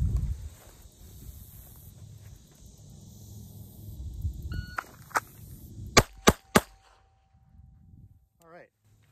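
A small Keltec P32 pistol fires three sharp, loud shots in quick succession at a shooting range. Faint shuffling and a murmured voice come before the shots, and a quiet tail follows them.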